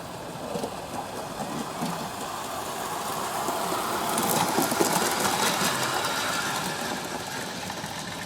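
A Märklin AC model train runs along a garden railway track, giving a steady close mechanical whir and rumble with a slight swell midway.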